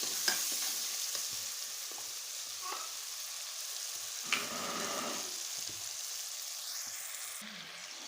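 Tomato masala for an aloo and masoor daal frying in a pan with salt while being stirred, a steady soft sizzle with occasional scrape clicks of the spoon, fairly quiet and without voices.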